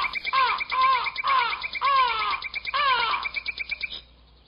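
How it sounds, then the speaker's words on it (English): Several songbirds chirp and squawk in quick, warbling bursts, loud and close, one call after another for a few seconds with no talking, then the calling stops abruptly. "as Little Red Riding Hood stood watching the birds"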